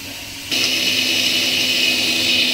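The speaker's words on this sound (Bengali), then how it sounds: "ভাজা হতে হতে আমি পোস্তটা এখানে বেটে নেবো।" A kitchen mixer grinder whirs steadily while grinding poppy seeds into paste during home Bengali cooking, starting abruptly half a second in and running loud and continuous without talk.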